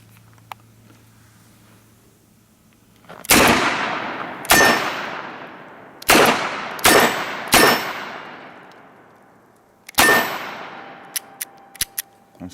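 Dan Wesson 715 revolver fired outdoors, seven sharp loud shots at irregular intervals, each with a ringing decay, followed by a few faint metallic clinks.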